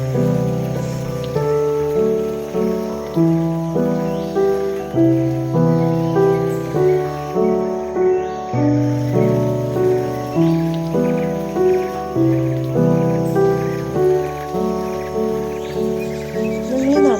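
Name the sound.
rain falling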